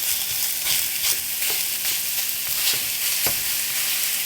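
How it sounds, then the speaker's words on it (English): Italian sausage and ground sirloin frying in a skillet, a loud, continuous bright sizzle with occasional scraping pushes as the meat is broken up, no voices. "I've got a ½ pound of Italian sausage, and then I've got 1 pound of ground sirloin. Just going to dump it in our skillet."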